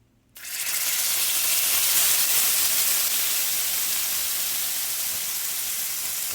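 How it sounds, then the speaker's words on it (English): Fish fillets dropped into hot oil, setting off a sudden loud, steady sizzle that starts after a brief quiet moment and holds strong and close throughout. "I'm going to be dropping in these fillets now."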